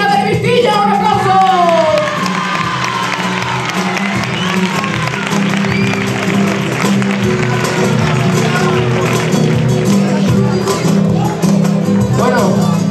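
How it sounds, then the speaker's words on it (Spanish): Loud, sustained applause from a large crowd at a flamenco show in an auditorium, dense and continuous throughout, with voices mixed into the clapping. "un aplauso"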